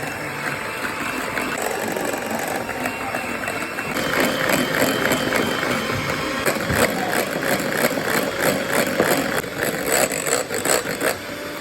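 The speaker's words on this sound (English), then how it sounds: "Start whisking, add your sugar bit by bit by bit." An electric mixer whirs steadily while whisking eggs and sugar for a Swiss roll sponge. Its motor drone grows louder partway through and continues, close and constant, with no talk.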